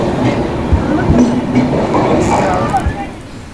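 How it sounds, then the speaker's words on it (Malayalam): A passenger train with sleeper coaches pulls into a station, a loud rumbling roll with low clanks and a faint wheel squeal, heard up close amid platform bustle and voices. "അതാ അപ്പോൾ നമ്മൾ ട്രെയിൻ വരുന്നുണ്ട്"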